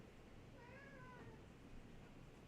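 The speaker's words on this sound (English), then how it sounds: "I'm holding the cat right now so she doesn't freak out." A cat meows once, a short faint rising cry, over a quiet indoor background.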